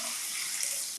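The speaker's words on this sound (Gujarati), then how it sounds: "તો 2 વાટકી આમાં પાણી ઉમેરવાનું છે।" Water poured from a bowl into a cooking pot of toor dal (pigeon peas), a steady, close splashing stream lasting about a second with no voices.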